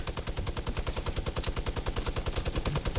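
Light machine gun fire in Fortnite, a fast, evenly spaced stream of loud shots hammering without pause for about three seconds.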